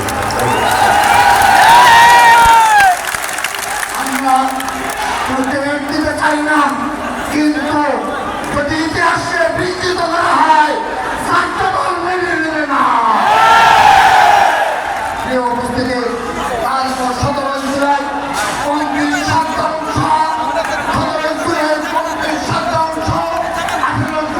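Crowd at a political rally and anniversary gathering chanting protest slogans in Bengali, rhythmic shouted call-and-response voices rising in bursts over a noisy, echoing open-air crowd, loud and close.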